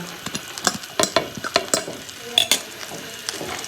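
Thinly sliced onions sizzle and crackle in melted butter and desi ghee in a pan, with sharp intermittent clinks and scrapes of a spoon stirring against the metal, close and fairly quiet.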